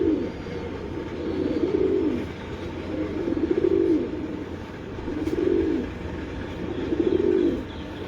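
Breeder pigeons coo in a steady rhythm, four low, rolling coos spaced evenly over a continuous background murmur.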